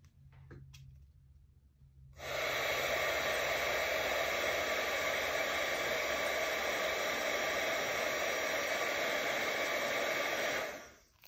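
A hair dryer runs steadily for about eight seconds over pressed flowers, switching on abruptly after a quiet start and cutting off near the end, its broad whooshing roar loud and close with no talk.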